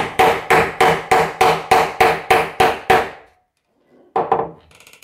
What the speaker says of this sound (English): get your hammer and you want to just simply tap that around